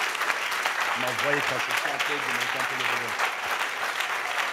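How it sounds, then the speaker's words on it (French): Church congregation clapping in a sustained burst of applause, dense and steady throughout, while a voice speaks loudly over it in the middle. "Est-ce qu'on peut acclamer le Saint-Esprit?"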